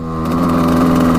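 A 1989 Suzuki RM250 two-stroke dirt bike engine holds a loud, close, sustained rasp at full throttle, a brief steady high-rev blare with no voices.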